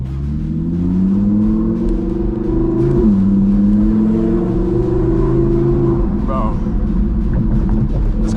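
A 1000hp Audi R8 with a loud exhaust drones steadily while driving, its engine note rising and falling through gear changes, close and continuous, with occasional voices over it.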